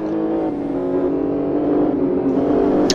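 Racing car engines drone steadily at close range as cars overtake through a chicane in a sim racing game at Blackwood, one continuous engine tone holding throughout.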